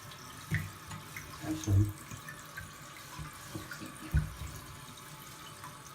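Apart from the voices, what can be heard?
toilet tank filling with water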